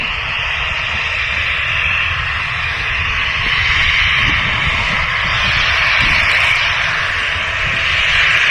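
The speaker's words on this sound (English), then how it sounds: "this EasyJet is off to London Gatwick" An EasyJet jet airliner departing for London Gatwick roars steadily with a broad, continuous engine rush that holds loud and even throughout, with no talk over it.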